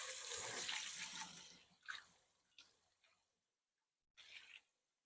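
Cold tap water runs over cooked pasta in a kitchen sink, a strong splashing rush that fades, then a few brief spurts and a final short gush, close by with no talk.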